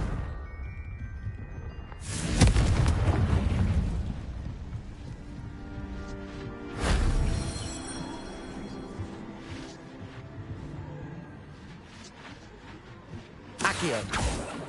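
Confringo spell explosions in the Hogwarts Legacy video game come as three heavy, crackling blasts spaced several seconds apart, each with a rumbling decay, over a low ambient backdrop.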